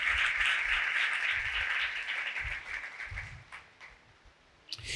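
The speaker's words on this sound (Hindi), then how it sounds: "उनके लिए ज़ोरदार तालियां बजाएं" Faint, steady applause from an audience at a Hindi-Urdu lecture on family life, a sustained wash of clapping that thins out and fades over the final seconds.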